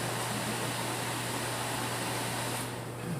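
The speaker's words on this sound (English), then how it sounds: "sorry for the fan noise. It's kind of warm in here." An electric fan runs steadily in a warm room, a constant close whooshing hiss with a low hum underneath, unbroken for the whole stretch and with no speech.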